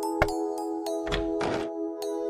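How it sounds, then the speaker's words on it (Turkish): Knocking on the door of a small forest cottage in a children's cartoon: a few hollow wooden thunks in an uneven rhythm, followed by a couple of duller, longer bumps, heard close and alone without talk. "Dinlenmek için kapıyı çalmış."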